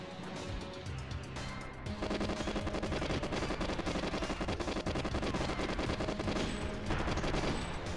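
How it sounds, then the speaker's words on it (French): Gunfire in the video game GoldenEye 64 HD, a dense, continuous burst of automatic shots that stays loud and sustained throughout with little pause. "J'ai tiré à peu près 8000 balles à côté, regarde ça"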